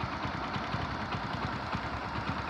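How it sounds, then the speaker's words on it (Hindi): Motorcycle engine idling steadily nearby while parked beside a paddy-harvesting machine, a continuous low rumble with a rapid, even pulsing throughout. "बाइक चालू है"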